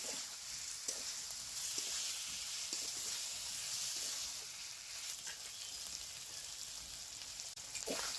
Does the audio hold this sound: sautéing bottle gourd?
yes